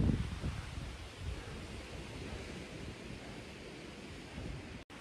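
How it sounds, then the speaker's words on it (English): Strong, relentless wind roars across an exposed mountainside during winter hammock camping, a steady broadband rush buffeting the microphone with gusts swelling and easing, continuous and close, with a brief dropout near the end. "It's so windy out here."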